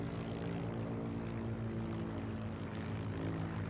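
Steady propeller airplane engine drone in the Heroes and Generals video game, a loud continuous buzzing roar that holds unbroken throughout with no talk over it.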